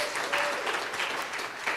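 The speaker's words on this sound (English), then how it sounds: "Knock down the house with applause." Audience applause at a Sunrise Movement gathering in Asheville, a steady wash of many hands clapping close by with a few louder bursts and a faint voice briefly audible under it.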